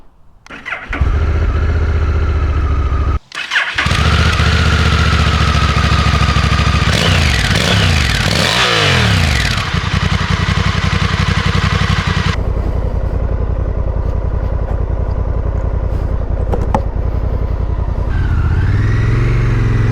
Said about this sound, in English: So how about I stick my helmet on and take the NT1100 for a ride.